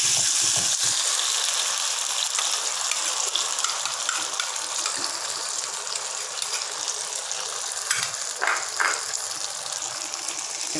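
Sweet sauce is poured into a pan holding fried pomfret fish, giving a steady gushing sizzle that continues for several seconds, with faint utensil clicks near the end.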